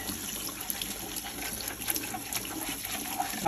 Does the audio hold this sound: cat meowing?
no